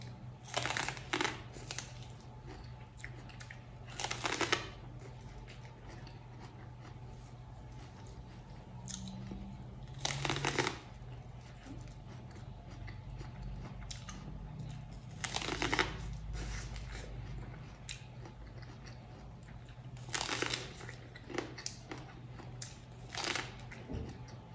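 Raw, very sweet corn on the cob is bitten and chewed in several distinct crunchy bursts spaced a few seconds apart, close and quiet with near silence between bites.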